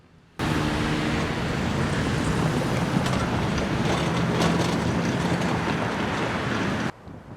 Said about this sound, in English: As the train passes the junction